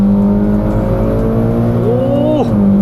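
A Mitsubishi Lancer Evolution X FQ440-MR with a turbocharged engine accelerates hard in second gear. It gives a loud, close, steady engine roar that climbs in pitch, then dips briefly at a shift.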